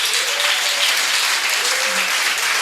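Applause from an audience at a bench unveiling ceremony in Khayelitsha, Cape Town, a steady wash of clapping hands throughout the short stretch.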